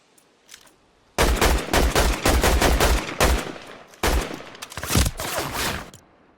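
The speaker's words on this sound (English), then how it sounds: "Now I notice this player shooting at me" Bursts of gunfire from another player in Fortnite, with rapid shots in several loud, close volleys separated by brief pauses.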